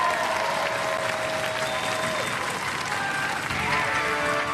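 A studio audience at a Robot Wars robot-combat show bursts into loud, dense applause, close and sustained for the whole moment, with some crowd noise mixed in.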